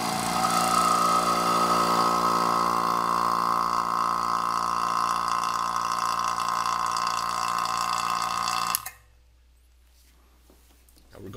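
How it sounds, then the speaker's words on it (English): A vacuum pump drones steadily on a vacuum chamber, a loud, even mechanical hum with a faint low pulsing, running for about nine seconds before cutting off abruptly into near silence. "After turning on the vacuum pump, the chamber"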